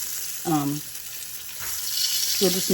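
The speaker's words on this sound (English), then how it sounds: "We have our corn in the oil that the pork chops fried in." Corn frying in leftover pork chop oil, with a steady, close hiss and sizzle running throughout while a few short bursts of voice come through over it.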